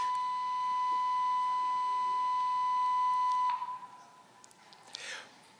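A building alarm beeps as a steady, continuous high-pitched tone for about three and a half seconds, then cuts off, leaving faint room noise and a brief rustle.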